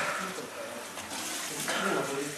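Water splashing and running near a tap as someone rinses their face, a steady broadband wash with a faint voice in the background.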